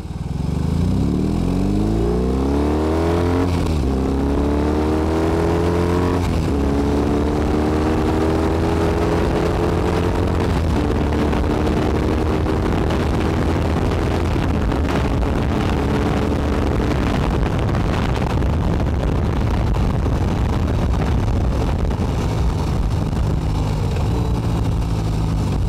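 A BMW R18 Transcontinental motorcycle in rock mode accelerates hard through several gears, its loud boxer engine rising in pitch repeatedly with brief dips at each shift, continuous and close throughout.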